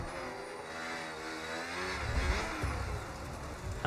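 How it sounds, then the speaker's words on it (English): A Formula E race car accelerates hard on the throttle at a Barcelona pre-season race, its electric whine climbing in pitch over a few seconds, fairly close and steady, with no voices. "Oh, as Kit just gets a little bit trigger happy on the throttle."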